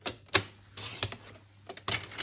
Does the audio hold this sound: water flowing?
no